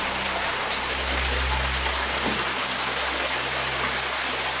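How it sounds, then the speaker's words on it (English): Steady, broadband rushing of a waterfall inside a cave fills the space, a constant wash with a low rumble beneath and no pauses. "Here's the waterfall."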